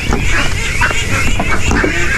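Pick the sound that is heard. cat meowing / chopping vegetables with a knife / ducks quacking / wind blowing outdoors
ducks quacking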